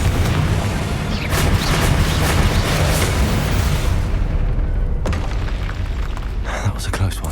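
Confringo spell explosions in Hogwarts Legacy rumble through a dense, continuous wash of booming noise during a fight, with a sharper burst near the five-second mark and a voice talking over the clamor.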